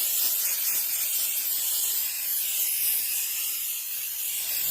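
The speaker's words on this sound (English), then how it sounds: "Spray it down, spray it down. Just spray, spray, spray." A steady, loud hiss of water spraying onto Yamaha MT-10 motorcycle parts during a rebuild, a continuous close-up jet with slight fluctuations and no talking.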